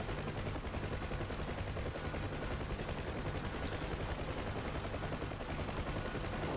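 Dense, sustained gunfire from a Huey helicopter gunship in the DCS combat flight simulator, a continuous rattling burst that fills the whole stretch at steady loudness with no talking over it.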